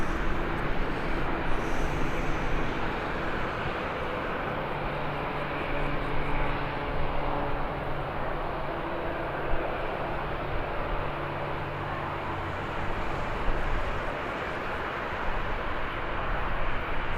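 An Aer Lingus airliner in its newer livery takes off from Birmingham airport, bound for Cork, giving a loud, steady broadband engine roar with low droning tones that holds throughout.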